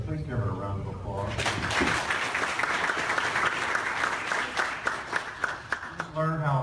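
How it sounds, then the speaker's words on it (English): Applause breaks out in an audience at a presentation, a burst of clapping that rises after a speaking voice and carries on under scattered talk before fading as the voice returns. "Please give her a round of applause."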